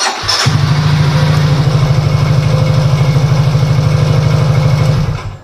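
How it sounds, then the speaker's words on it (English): A motorcycle engine, started remotely through a smartphone-controlled relay system, fires up and settles into a loud, steady, rapid idle thrum lasting several seconds before cutting off abruptly. "start the engine and turn off the engine using the control on your phone"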